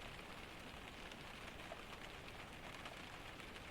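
Rain falling on the roof of a cabin in a Scandinavian storm, a soft, even patter of drops that stays constant and faint throughout.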